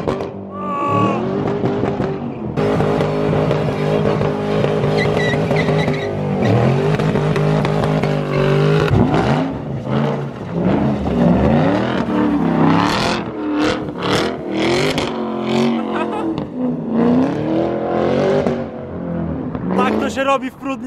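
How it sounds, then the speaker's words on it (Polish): A loud sports car engine revs hard in repeated bursts, roaring and crackling up and down close by, with voices and other noise mixed in. "Wydech, który rozwala bębenki w uszach."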